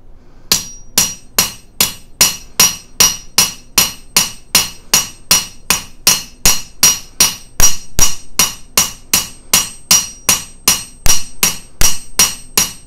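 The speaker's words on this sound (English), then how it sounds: "So you have to move it around just a little bit to keep it hammered," Steady run of sharp, ringing hammer blows on jewelry metal being flattened against a steel anvil, struck roughly twice per second, close and loud with no talking.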